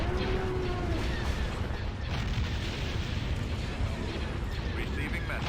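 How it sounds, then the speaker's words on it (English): Starships trade laser-cannon fire in a space battle in the Star Wars strategy game Empire at War. A dense, unbroken barrage of blasts and booms rolls over mechanical rumble throughout. "Open fire on those laser cannons."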